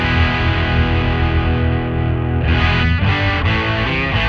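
Electric guitar played through a Way Huge STO overdrive pedal with gain near 2 o'clock, loud and continuous: a sustained distorted chord ringing out, then a few quicker strummed chord changes in the last two seconds.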